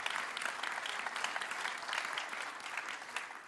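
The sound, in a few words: congregation applauding in church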